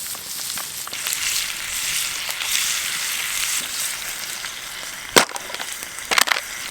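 Bacon sizzling in a pan on a backpacking trip, a steady crackling hiss with sharp pops and spatters toward the end, fairly close and without talk.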